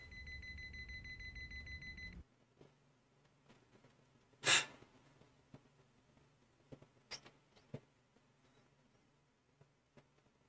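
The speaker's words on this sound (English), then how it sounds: "his heart monitor is beeping like crazy" A heart monitor in a Yakuza video game gives a steady electronic alarm tone for about two seconds, then cuts off, leaving a quiet scene with scattered soft clicks and one brief loud burst.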